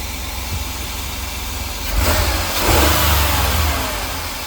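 A 2004 Chevrolet Astro 4x4 van engine with a newly replaced distributor runs steadily close by, then revs up briefly and settles back toward an even idle, loud and continuous with no talking.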